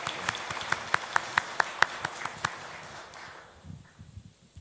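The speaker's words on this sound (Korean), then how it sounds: "우리 박수로 환영하십시오." A church congregation applauds to welcome a new preacher, with a run of sharp, separate claps close by that thin out and fade into quiet room noise after about three seconds.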